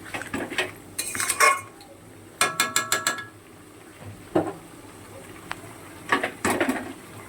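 Metal utensil scraping and clinking against a pan while masala is stirred and fried for a crab curry, in several short bursts of clatter separated by quieter stretches, with no talk.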